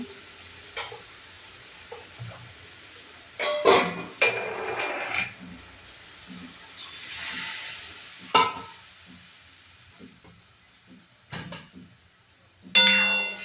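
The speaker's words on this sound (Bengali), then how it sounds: "এরপর ভালো করে নাড়াচাড়া করে মিশিয়ে নিয়ে এটাকে আমি সেদ্ধ হতে দেব" Lentils, carrots and water stirred in a kadai pan: scraping and sloshing strokes come in bursts with occasional clinks of the utensil against the metal, close and moderately loud, with no voices.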